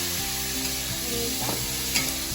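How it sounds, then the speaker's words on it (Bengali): Vegetables frying in a pan until reddened, a steady sizzle with a low background hum and a few soft stirring scrapes, close and alone. "লাল লাল করে ভাজবো"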